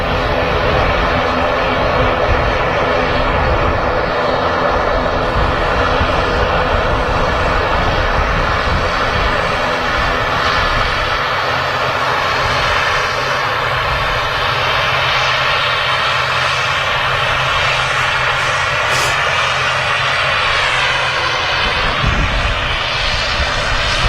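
A Turkish Airlines Boeing 737 Max 9 at Manchester Airport roars steadily and loudly with engine noise throughout, a broad continuous jet rumble with whining tones.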